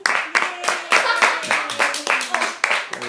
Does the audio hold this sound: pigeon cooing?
no